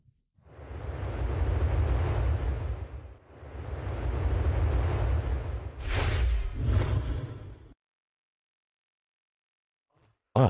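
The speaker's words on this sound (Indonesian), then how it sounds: "Tapi, suara angin ini terasa aneh banget." Strong wind and crashing ocean waves in a typhoon at sea roar loudly in two long surges, then a harsher gusting burst before cutting to near silence with a faint click at the end.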